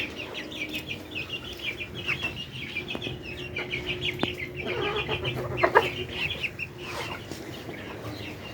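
Hens cluck and murmur in a steady, busy chorus close by in winter cold around -3°C, with a few sharper squawks breaking through over outdoor background noise.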